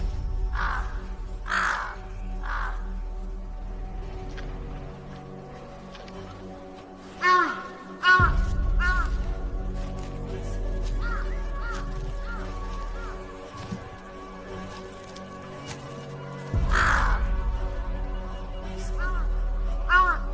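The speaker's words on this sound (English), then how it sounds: "The crows that led him here may also have alerted the tiger." Wild crows caw repeatedly in the forest near a tiger, loud, harsh calls coming in irregular bursts and overlapping one another over a low steady background hum.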